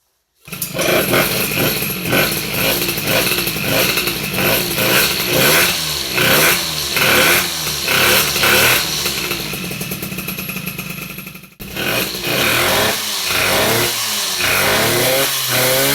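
An MBK 51 moped engine fitted with Polini crankcases starts up after a brief silence and revs hard, loud and close, with rising and falling throttle blips, a short cut near the end and then more revving.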